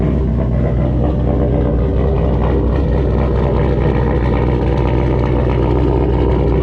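The engine of a lifted Honda Civic runs at a steady idle while warming up outside, a loud continuous rumble close by with no talk.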